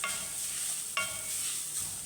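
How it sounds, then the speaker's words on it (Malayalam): Steady sizzling of grated coconut frying in oil, with a scrape of stirring near the middle. "ഒരു സ്പൂൺ വെളിച്ചെണ്ണ ചേർത്തിട്ടുണ്ട് അതിൽ അരമുറി തേങ്ങ ചിരകിയത് ചേർക്കുവാണ്"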